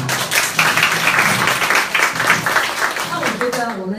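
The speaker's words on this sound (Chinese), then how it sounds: "给他们掌声一下。" A seminar audience in Xinying, Tainan, gives a couple a round of applause, the clapping spread out and sustained at moderate loudness with a voice faintly underneath.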